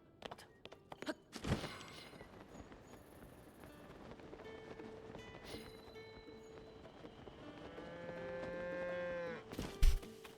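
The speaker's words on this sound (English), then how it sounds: "That cow is like, I have something to say." A cow in The Legend of Zelda: Tears of the Kingdom lets out a long, rising moo near the end, preceded by scattered thuds and game ambience, with a sharp knock closing it.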